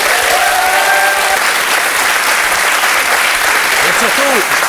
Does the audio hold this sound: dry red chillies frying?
no